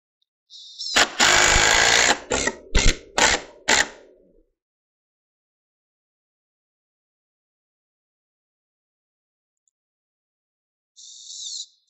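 A power drill drives screws through a board into a gable end stud in a few short bursts, a whining motor spin followed by quick stuttering pulses, then silence before one last brief whir.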